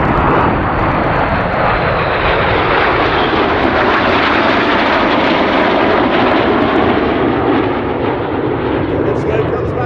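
RAF Red Arrows jets fly at the Oregon International Airshow, a loud, continuous broadband roar of jet engines that fills the air without a break, swelling gently as the formation passes.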